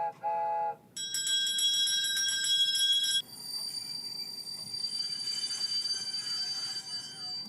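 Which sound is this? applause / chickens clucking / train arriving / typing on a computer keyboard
train arriving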